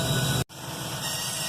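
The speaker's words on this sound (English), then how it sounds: "Excuse me, there's a train coming through." A train rolls through near a scrapyard where old Chevy and GMC square-body trucks sit, giving a steady broadband rumble and hiss after a brief dropout. It is loud and continuous, with no talking.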